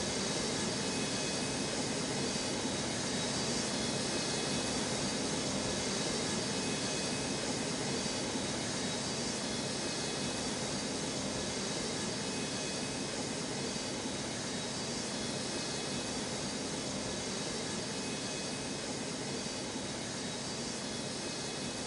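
A jet aircraft on a snowy runway at Newark airport produces a continuous, loud, broadband engine roar that holds steady for the whole stretch.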